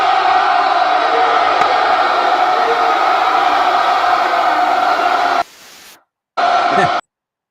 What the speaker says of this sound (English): The big crowd cheer.